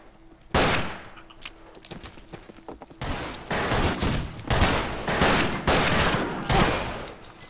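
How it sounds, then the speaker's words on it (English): Gunfire in the western video game Fistful of Frags, one loud shot, then after a pause a run of heavy, evenly spaced shots and blasts, close and alone. "Wait, let me pull out my gun."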